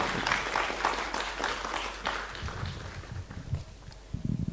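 Applause from an audience at a medical conference on deep brain stimulation surgery: dense clapping that thins and fades out, with a voice speaking faintly over the tail.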